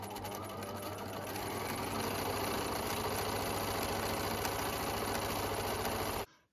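A sewing machine runs continuously, zigzag stitching the edges of a simple midi dress, loud and close with a steady rapid mechanical whir for about six seconds before stopping abruptly.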